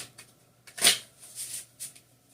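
A deck of cards is riffled and shuffled in a quiet room, one sharp, loud flutter followed by a few softer riffles and taps, close to the listener, with no talking.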